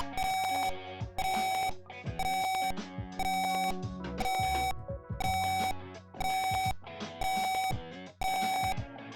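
A shrill piezo buzzer driven by an Arduino Uno sounds a repeating siren pattern, about nine loud bursts with short gaps, each warbling between pitches, close and harsh.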